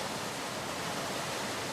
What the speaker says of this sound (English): 14 million gallons of rushing water